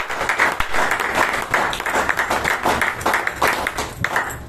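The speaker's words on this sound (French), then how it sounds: "je vous prie quand même de me remercier par vos applaudissements." A crowd applauds at a company celebration for International Women's Day on 8 March 2024, a lively burst of clapping with sharp individual claps standing out from the steady mass.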